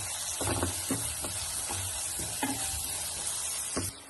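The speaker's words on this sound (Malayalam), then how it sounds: "2 ടീസ്പൂൺ മല്ലിപ്പൊടി, അതിലേക്ക് 1/4 ടീസ്പൂൺ പെരുംജീരകത്തിൻ്റെ പൊടിയും 1/4 ടീസ്പൂൺ മസാലപ്പൊടിയും എല്ലാം ചേർത്ത് നല്ലോണം ഒന്ന് വഴഞ്ഞ് വരട്ടെ" Coriander powder, fennel powder and masala powder stir-fried in a pan for spicy chicken curry, an even sizzle broken by several soft rhythmic scraping strokes of a spoon, dropping off at the end.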